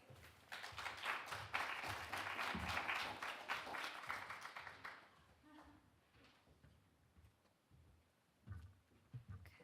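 Audience applause welcoming a guest lecturer at a university faculty lecture: dense clapping for about five seconds, then thinning to scattered claps and low room noise.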